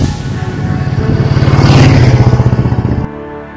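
Cast iron Royal Enfield Bullet 350 motorcycle engine revving up with a loud, steady single-cylinder thump that builds in pace, holding a pulsing beat before cutting off abruptly near the end.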